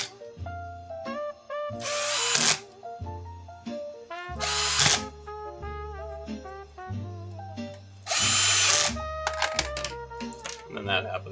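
A power driver on its lowest setting drives cheap bolts into vintage console or arcade hardware, giving repeated short whirring bursts with a few sharp rattling spikes, with a voice talking between them.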